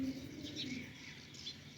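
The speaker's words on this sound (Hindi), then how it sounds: "ये वाली चिड़िया टैंकी के पास आके बैठ गई है। तो माशाल्लाह इतना इतना प्यारी आवाज़ है इसकी" A small bird perched by a rooftop water tank gives soft, faint chirping calls at a distance over a low background hum.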